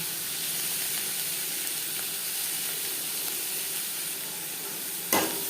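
Onion and garlic fry in a pan for a chicken liver and gizzard dish, a steady close sizzling hiss that holds evenly throughout, broken by one brief knock near the end.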